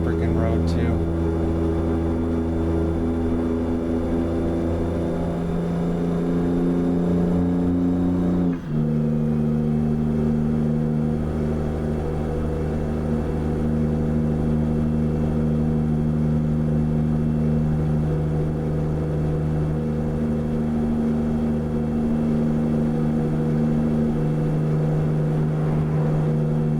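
A truck engine in American Truck Simulator drones at full throttle while climbing a hill, a loud steady low rumble with strong harmonics that dips briefly as a gear shifts, then holds at a slightly changed pitch.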